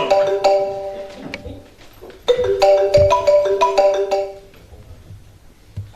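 Melodic telephone ringtone from an incoming early-morning call, a bright repeating electronic tune playing loud and close for several seconds with no talking over it.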